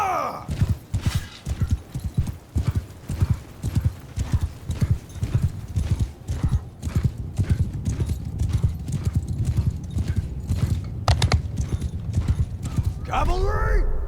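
Horses galloping in a Bannerlord battle, rapid rhythmic hoofbeats throughout with whinnies near the start and end, under shouted battle voices.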